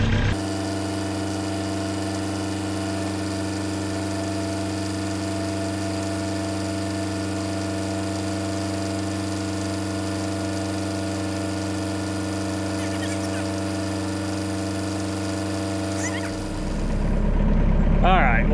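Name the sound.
tractor engine running while scooping clay dirt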